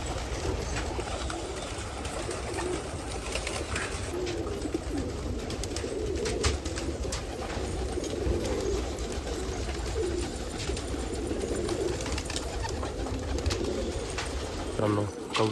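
Pigeons in a 40-year-old pigeon loft on Subhash Road in Nashik Road coo steadily and close up over a constant rushing background, with other birds calling.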